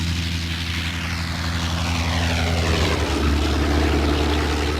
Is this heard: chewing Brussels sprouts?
no